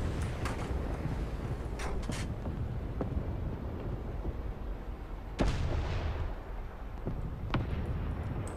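Tank cannon fire in War Thunder realistic battles: repeated loud, booming shots and impacts over a constant rumbling engine and battle din, with sharp blasts standing out at irregular intervals.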